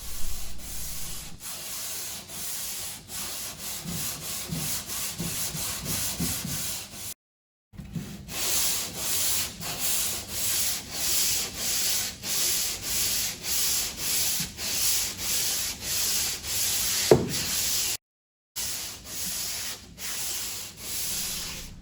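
Hand sanding a filled joint in a wall with a surface filler, rhythmic rasping back-and-forth strokes close up, steady and repetitive with two brief pauses.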